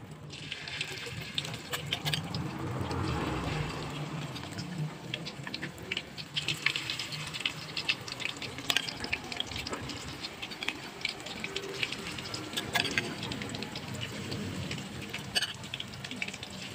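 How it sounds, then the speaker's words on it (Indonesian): Tofu and shrimp batter fry in hot oil, giving a continuous soft sizzle and patter with brief clinks and stirring noises, fairly quiet with nobody speaking. "Kemudian kita goreng lagi sisa adonannya ya teman-teman."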